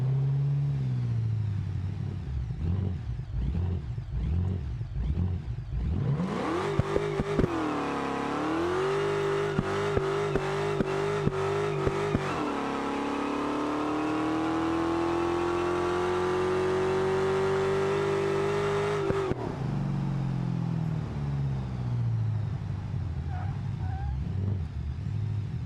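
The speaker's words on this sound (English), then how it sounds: "So already, oof, this thing does pretty good burnouts. We will go and do one as a test here." A car in BeamNG does a burnout, its engine revving hard and holding a steady high whine over tire-spinning noise for about thirteen seconds, then easing back to a lower rumble.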